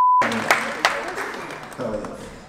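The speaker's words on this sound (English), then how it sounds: "Give him a round of applause." Audience at a stand-up comedy show breaks into applause, sharp claps at first settling into a dense patter that fades slightly over a couple of seconds.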